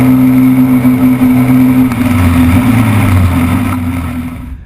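Can-Am Maverick side-by-side giving a throaty, steady engine drone, loud and close throughout, easing slightly toward the end with no talk over it.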